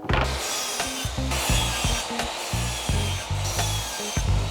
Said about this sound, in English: simply cut this tiny piece out on the table saw once you're done